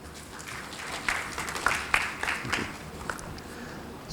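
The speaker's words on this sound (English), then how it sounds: "A round of applause for Dr." Audience applause at a renewable energy forum in Sri Lanka, a steady wash of clapping with scattered louder individual claps, sustained for about four seconds at moderate, fairly distant level.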